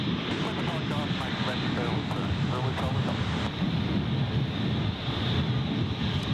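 A Jetstar Airbus A321neo jet at Gold Coast Airport gives off a steady, broad roar that holds for the whole stretch, with wind buffeting the microphone and people talking over it.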